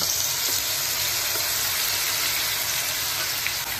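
Green paste with curry leaves and cumin fries in hot oil, giving a loud, continuous, close sizzle that stays even throughout.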